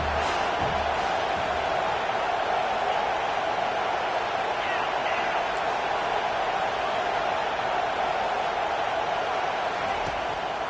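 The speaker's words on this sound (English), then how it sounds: "Decibels rising as the crowd gets behind this defense on 3rd down." Stadium crowd in a Madden football video game, a dense steady roar of cheering that holds at the same loud level for the whole stretch, with no breaks or peaks.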